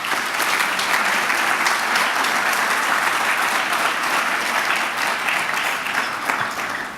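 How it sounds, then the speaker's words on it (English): Sustained audience applause at a regional all-star awards gala, steady and dense for the whole stretch, filling the hall at an even level with no speech over it. "give yourselves a round of applause"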